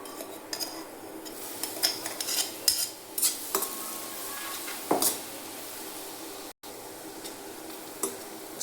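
A pounded paste of garlic, cumin, red chilli, salt and turmeric fries in hot tempering oil with a soft continuous sizzle, broken by spoon clinks and scraping stirs against the pan, close and quiet, without speech.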